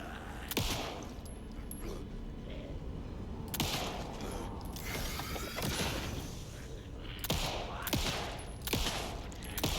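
Gunshots in the horror video game Alan Wake II: a few sharp cracks spread over several seconds, set against a dense, noisy ambient background with tense game atmosphere.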